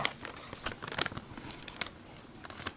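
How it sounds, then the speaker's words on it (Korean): Scissors cutting the tip of a plastic sugar package in a home kitchen while making dalgona candy, a series of short crisp snips and crinkles, close and irregular. "가위로. 그 자르는 곳이 없어 끝에만, 끝에만 살짝만 잘라요"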